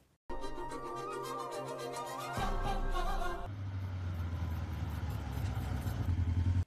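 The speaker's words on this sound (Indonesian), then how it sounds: "sehingga Raffi meminjam motor kawannya itu" A borrowed motorcycle starts up and runs close by, a steady mid-pitched engine note that shifts to a rougher, louder tone partway through, with no talk over it.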